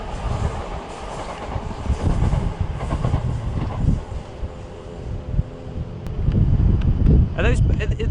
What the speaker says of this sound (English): Got a Gatwick Express train passing from Gatwick Express to London Victoria.